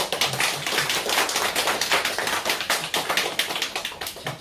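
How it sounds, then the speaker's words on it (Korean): Church congregation clapping together after the pastor's call during a Sunday worship service, a dense, steady patter of many hands filling the room throughout, with no talking over it. "박수 한번 쳐줄까요?"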